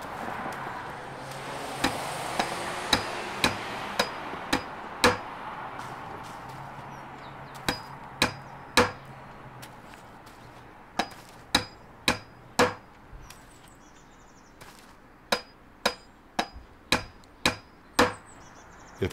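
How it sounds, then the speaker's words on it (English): Hammer blows in the video game Demolish & Build 3, a long series of sharp metallic strikes in uneven rhythm, some in quick pairs, ringing clearly over a low ambient bed with no talk. "Hammer time."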